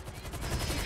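Dense, continuous gunfire from Grand Theft Auto V fills the whole short stretch, a loud rapid rattle of shots with a low thumping layer and no clear speech over it.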